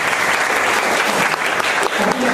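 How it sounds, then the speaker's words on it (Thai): Dense applause from a seminar audience at a Thai diplomacy forum, steady and full for the whole stretch with no break. "ขอเสียงปรบมือให้กับอาจารย์วิวัฒน์ค่ะ"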